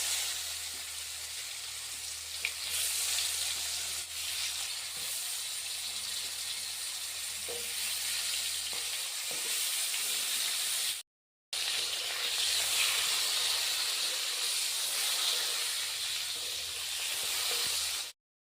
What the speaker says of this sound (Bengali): একে একে সবগুলো পটল লাল লাল করে ভেজে নেব।